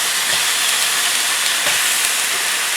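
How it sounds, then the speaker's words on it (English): Steady hiss of steam rising from breakfast cooking on an Aldi multi-portion all-in-one grill, sliced tomatoes and a fried egg in the drip trays, broad and continuous with faint clicks beneath. "There's a little bit of steam coming off."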